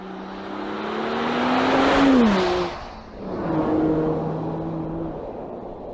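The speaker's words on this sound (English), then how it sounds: "Whoa, that was 0 to 90 kilometers an hour." An SUV coupe accelerating hard from a standstill to 90 km/h, its engine note climbing steadily, dipping briefly at a gear change and then rising again, loud and close from inside the cabin.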